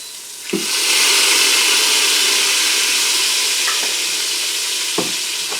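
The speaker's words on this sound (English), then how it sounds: "stir that around until get the onions cooked" Onions and garlic saute in a hot Instant Pot on the saute setting, giving a loud, steady broadband sizzle that starts after a soft knock, with a few clinks of the stirring spoon against the pot.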